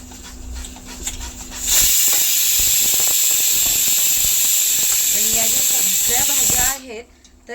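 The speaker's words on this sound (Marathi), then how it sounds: "आता कढईमध्ये तेल घालून घ्यायचं" Oil heating in a kadhai gives off a loud, steady hissing sizzle for about five seconds. It starts abruptly and cuts off sharply, with faint talk and kitchen clatter before and after.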